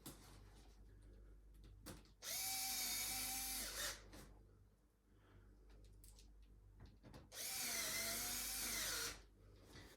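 A power drill drives screws into a Bumbleride Era stroller hinge in two distinct whirring bursts of about two seconds each, with quieter handling clicks between them.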